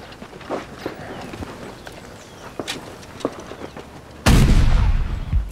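Artillery fire from Japanese heavy guns in a Chinese war film: faint, scattered distant thuds and pops, then a sudden loud, roaring blast near the end that lingers.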